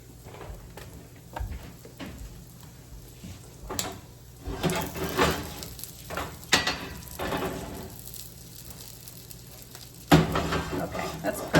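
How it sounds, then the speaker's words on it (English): Crab cakes sizzle steadily in a very hot pan, a close, continuous frying hiss with occasional clinks and scrapes of a utensil, growing louder toward the end. "can hear that sizzle. We want them nice and crispy. This pan is super duper hot."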